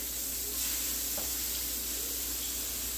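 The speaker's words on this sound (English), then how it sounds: "I'm gonna let that cook. I got it on medium high." Thin-pounded chicken breast cutlets sizzling in a pan on medium-high heat, a constant close hissing fry with no pauses and no talk.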